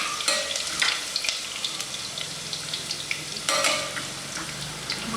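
Peanuts sizzle and crackle in hot oil while a spoon stirs and scrapes the pan, with bursts of louder frying. They are being cooked for khichadi after crushed garlic went in.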